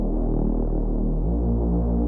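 Distorted synth Reese bass under a low-pass filter, before EQ: a thick, dark, throbbing low drone that holds steady and shifts pitch once midway, loud and alone.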